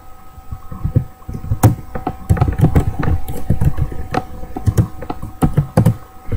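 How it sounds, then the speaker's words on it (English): Keys clatter on a computer keyboard in quick irregular bursts of close, loud clicks and thumps for several seconds, with no voices. "the typing is atrocious"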